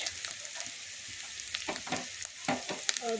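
Ginger garlic paste sautéing in a pan as cumin powder goes in, a continuous close sizzle with occasional stirring scrapes and clinks.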